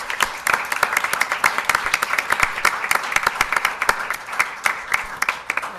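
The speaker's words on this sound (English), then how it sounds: "let's give a round of applause to all of our chairs and to Mark and Lynette." Clapping from a modest town hall audience of court council members. The claps are sparse and distinct, each one audible, spread steadily over several seconds at moderate volume, with faint voices underneath.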